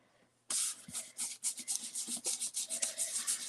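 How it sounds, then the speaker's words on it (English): A blending brush rubs espresso-colored ink onto a craft surface in quick, close, rhythmic scrubbing strokes with a dry, sanding-like texture and no talk. "I'm just rubbing some ink on this"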